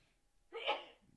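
A single short, sharp sneeze, close to the microphone, breaking a quiet moment.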